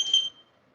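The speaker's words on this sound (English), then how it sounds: "and then the buzzer let you know that mixing is done" Buzzer on a soba noodle dough mixing machine sounds a single short, bright electronic tone lasting about a third of a second, then fades into a quiet room.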